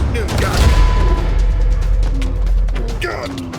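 Gunfire rings out in a Wild West-themed Minecraft match, a dense fusillade of shots tangled with a constant stream of excited voices throughout.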